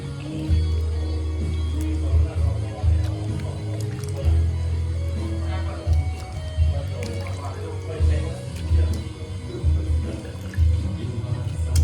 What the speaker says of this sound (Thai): ดี๋ยวจะไปล้างน้ำเปล่าอีกน้ำหนึ่ง